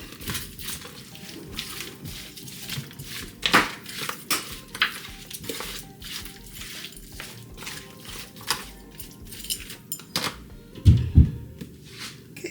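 A spoon works seasoning into chicken for brown stew, making soft, irregular scrapes and clinks against the bowl with a few louder knocks, close and fairly quiet, with no talk.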